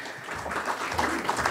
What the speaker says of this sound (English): Ladies and gentlemen, a big, big round of applause.